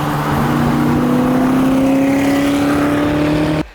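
Loud, roaring supercharged Ford supercar engine held at high revs, with a steady rising tone that cuts off abruptly at the end.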